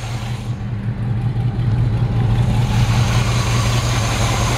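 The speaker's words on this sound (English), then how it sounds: "That engine runs perfect. Sounds like it might have a minor exhaust leak." 1953 Ford F100 engine idling with a slight exhaust leak, a loud, steady low rumble close to the microphone, swelling a little as it runs with no voices over it.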